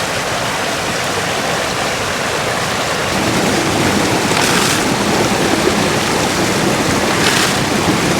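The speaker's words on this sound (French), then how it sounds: "Faut que je vide l'eau" Water is poured out while gold prospecting in a river, a loud continuous rushing and splashing. It thickens after a few seconds and stays steady throughout, with no voices.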